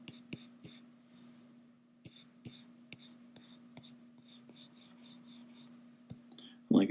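Pencil sketching a cartoony dragon on paper, with light scratchy strokes in short repeated bursts, close and quiet over a faint steady hum.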